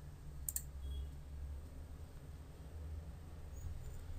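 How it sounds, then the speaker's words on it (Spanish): A computer mouse gives one quick, quiet click early on during a YouTube channel setup, followed by faint room hiss. "Así que doy clic en siguiente paso"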